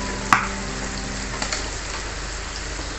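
Serunding, a chili floss, is stirred as it fries in a pan, giving a continuous soft sizzle close by, broken by a sharp clink of the utensil early on and a few lighter scrapes.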